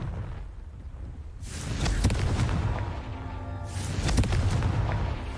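Two booming blasts from the Confringo fire spell in the game Hogwarts Legacy, each a loud, broad burst with a rumbling tail, spaced about two seconds apart.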